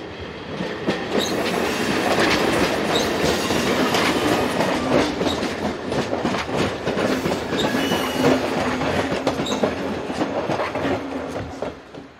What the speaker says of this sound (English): This is unit number 230, arriving with a service from Langnau.